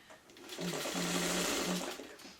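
A sewing machine runs close by stitching a quilt block, its motor whirring in a steady burst with a few short changes in pace.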